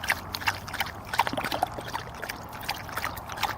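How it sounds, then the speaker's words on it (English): Water squeezed from a portable dog water bottle trickles and splashes into the bowl in small uneven spurts, close and fairly quiet. "So you just squeeze the water bottle. The water comes right on out into the bowl."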